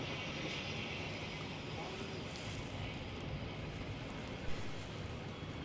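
A Harbour Air de Havilland Otter seaplane, 69 years old, runs its engine with a steady broadband drone, heard at moderate distance as a continuous rumble with no break.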